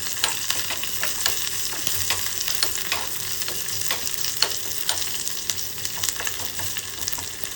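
Shallots and curry leaves fry in a pan for a mango curry, giving a steady, close sizzle with scattered sharp pops and crackles throughout, no voices.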